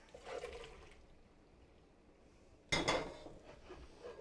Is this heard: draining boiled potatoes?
yes